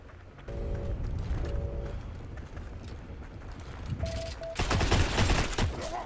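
Grease gun fire in the World War II shooter Heroes and Generals, sustained rattling automatic bursts under steady game noise with brief tonal beeps, swelling louder and denser near the end.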